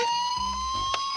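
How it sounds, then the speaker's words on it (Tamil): An ambulance siren wails with a steady high tone and a low, pulsing horn-like sweep beneath it, loud and continuous, with no voices. "ஆம் நண்பர்களே, அது ஒரு ஆம்புலன்ஸ் தான்."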